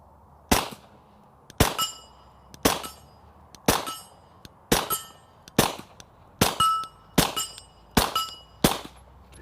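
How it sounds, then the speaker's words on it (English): Subsonic rounds from a Stoeger STR-9S semi-auto pistol striking a distant steel gong target: about ten sharp shots, each followed by a ringing metallic clang, spaced roughly a second apart with no talking. "bet we can hit that gong back there"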